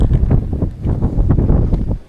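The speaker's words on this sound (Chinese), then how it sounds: "这边风很大的" Gale-force wind on the Pulpit Rock mountaintop in Norway batters the microphone in heavy, low rumbling gusts that pulse irregularly and close up.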